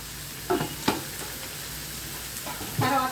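Onions fry with salt in a pan, giving a continuous close sizzle broken by several sharp spoon scrapes and stirring clatters, with no voice heard.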